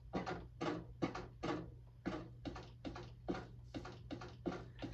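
Wooden gates in Minecraft opening and closing again and again, about a dozen short, crisp clacks at a brisk, slightly uneven pace over a steady low hum.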